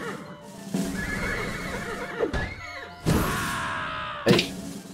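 A horse neighs twice in the Deer Simulator video game, each whinny loud and close, with thuds and clip-clop sounds in between.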